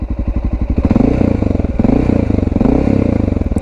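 Motorcycle engine revving as it accelerates quickly, loud and close, with a fast pulsing exhaust note that climbs in pitch in repeated surges.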